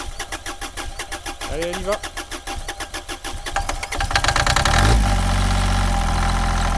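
A mini excavator engine cranks with a rapid, rhythmic starter chug, catches, and settles into a loud, rough idle, while someone speaks briefly over the cranking.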